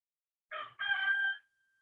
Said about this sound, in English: That rooster's going off.